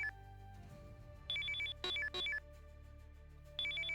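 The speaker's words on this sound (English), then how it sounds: "I thought that was my phone ringing, but it's the bird." A bird in the Mixed-Up Mother Goose video game chirps like a ringing telephone, giving several short electronic trilling bursts in a rhythmic pattern over soft game music.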